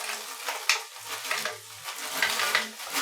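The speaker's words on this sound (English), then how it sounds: "I'm going to add a little bit of shrimp to this" Shrimp dropped into a hot pan at home, sizzling and crackling steadily with a few stirring scrapes, close and moderately loud with no talking.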